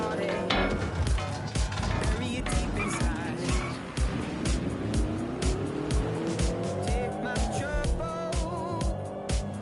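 A car driving in the Watch Dogs Legion video game: a steady engine drone with rising revs and tire squeal, loud and close, running continuously with a voice speaking over it at times.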